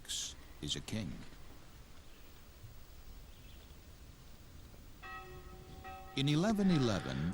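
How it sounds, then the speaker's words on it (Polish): The bell of the small São Miguel church inside the castle walls at Guimarães, Portugal, rings with a few lingering tones near the end, while a voice speaks at the start and finish. "dzwony położonego wewnątrz zamkowych murów kościółka São Miquel zapowiadają chrzciny"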